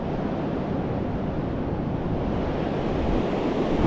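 Ocean waves wash onto a wide beach as the tide comes in, a continuous broad roar of surf close by with some wind rumble, steady throughout.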